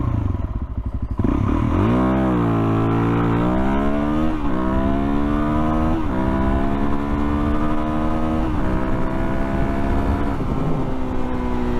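Suzuki DRZ400SM motorcycle launching hard in first gear, its loud close engine climbing steeply in pitch and pulling up through revs with short dips as it accelerates, alone without talk.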